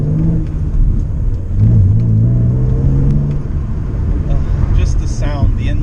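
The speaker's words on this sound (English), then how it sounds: "Just the sound, the inline 6." BMW E39 528i inline-six while driving, a loud, steady engine drone with a rising pitch sweep as it picks up revs, heard inside the cabin while someone talks throughout.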